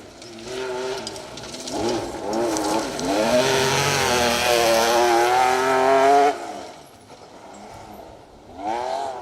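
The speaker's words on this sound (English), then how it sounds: "Ben Smith trying hard in the 911 RS" A Porsche 911 RS rally car driving a Trackrod Rally stage, its engine rising and falling through gear changes and revs as it passes nearby, loud for several seconds before fading, then revving again.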